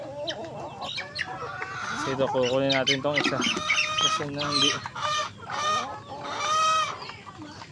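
Backyard chickens cluck and squawk noisily close by, a busy overlapping chorus of fowl calls mixed with a person speaking over them.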